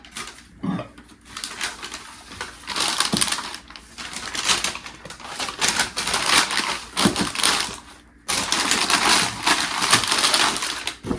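A small gift being wrapped by hand, with busy crinkling, rustling and crushing of paper in close, irregular bursts and brief pauses, no voices.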